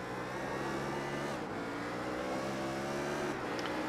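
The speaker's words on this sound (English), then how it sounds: "Here there, the car just breaking traction." A GT3 race car, a BMW, in a sim racing game roars at steady engine pitch with shifting harmonics as its rear tyres break traction, a loud continuous drone that dips briefly twice.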